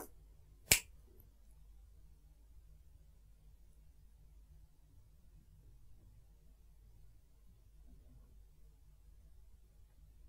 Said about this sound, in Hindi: ये जो चुटकी बजाऊंगा इसकी आवाज को सुनना